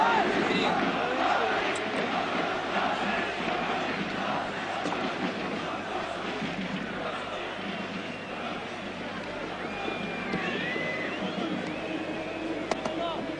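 A football stadium crowd at a 1992-93 UEFA Champions League match between Marseille and Club Brugge roars and cheers steadily as a player leaves the pitch, with a commentator talking over the din.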